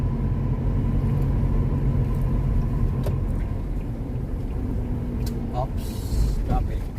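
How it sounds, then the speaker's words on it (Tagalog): Road traffic in Bonifacio Global City, Manila: a steady low rumble of car and bus engines with occasional brake hiss, near and continuous, with people talking over it. "traffic."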